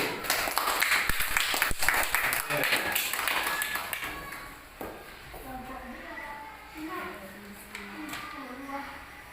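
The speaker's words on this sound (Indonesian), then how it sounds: "Tepuk tangan buat kelompok" A class gives a student group a round of applause in a classroom, dense clapping filling the first several seconds and then fading out as the teacher and students begin talking.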